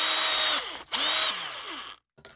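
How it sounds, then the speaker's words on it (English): A power drill fitted with a 9/32 bit whines loudly in two close bursts with a brief pause between, the pitch sliding as it bites into the workpiece, then it winds down to silence. "Got the old power drill here with a 9/16 bit."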